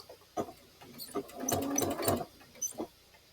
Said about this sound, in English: I'm going to take a couple back stitches just to secure it.